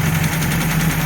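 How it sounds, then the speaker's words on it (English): A Ford Escort MK3 GLE engine idles roughly and unhappily nearby, a steady low droning hum with slight uneven pulsing and no speech. "this engine does not sound happy"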